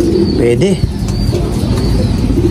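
Pigeons waiting for water coo softly and flutter close by, with a steady low hum and some chatter in the background throughout.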